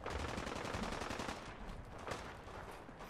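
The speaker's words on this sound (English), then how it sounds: "A lot of gunfire." Rapid bursts of gunfire from a firefight in Fallout 4, sounding dense and continuous through the first half and then thinning into scattered shots and a louder crack near the end.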